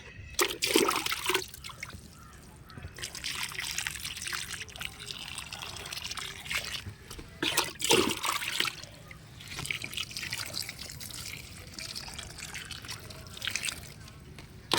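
Water poured by hand onto freshly transplanted kohlrabi seedlings in garden soil, in irregular trickling and splashing bursts with short pauses, close by, with a person speaking at times.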